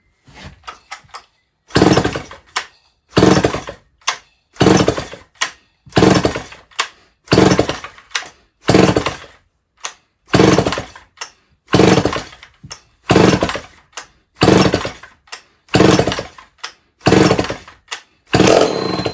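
Remington-made John Deere chainsaw, dry from sitting, being pull-started over and over: a steady series of about a dozen rhythmic cord pulls with sputtering bursts, loud and close, no talk.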